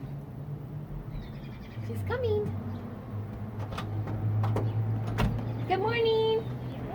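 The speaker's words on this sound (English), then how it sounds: "I think you need to knock a little louder" A few sharp knocks on a door, spread out over several seconds, with voices talking and birds chirping in the background.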